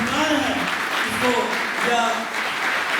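Loud crowd applause at a youth event in Gorakhpur, continuous clapping with voices rising over it throughout.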